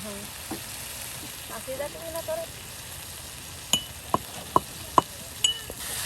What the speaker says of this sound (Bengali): আপনার এই কপি এবং আলু মশলার সাথে মাখা মাখা করে কিন্তু কষানো হচ্ছে